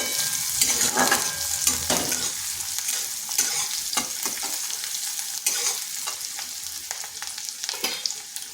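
Chopped onion and a green chili fry lightly in a pan, a close, steady sizzle with spoon scrapes and stirring clatter recurring throughout.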